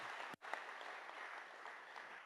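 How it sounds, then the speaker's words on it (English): Faint, distant applause from a crowd at a community hearing, with steady clapping broken by a brief dropout near the start. "So give them a nice round of applause."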